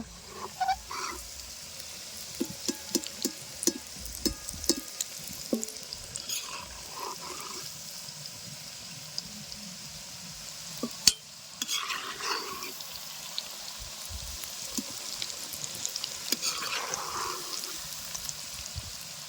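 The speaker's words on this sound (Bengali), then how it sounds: "বন্ধুরা ফুলকপিগুলো ভাজা ভাজা হয়েছে তো" Cauliflower frying in an outdoor pan beside a riverbank, with a soft, continuous sizzle and intermittent scraping and stirring clatter, faint and steady over a quiet background.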